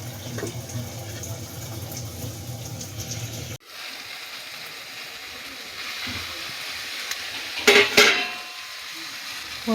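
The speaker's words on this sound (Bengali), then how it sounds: "শাকটাও ভালো মতো ভাজা হয়ে গেছে।" Red amaranth greens (lal shaak) frying in a pan: a soft, steady sizzle with a brief clatter of a utensil partway through and a sharper scraping stir near the end, no voices.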